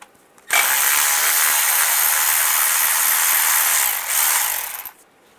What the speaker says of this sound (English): I'm gonna use a 10mm socket